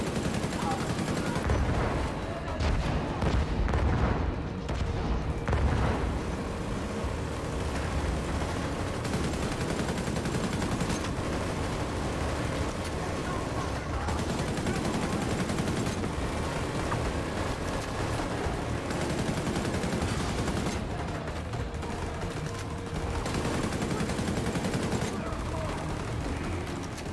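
Minigun firing in the video game The Division 2, sustained dense bursts of rapid gunfire with overlapping shots and explosions, loud and continuous, under occasional game voice lines.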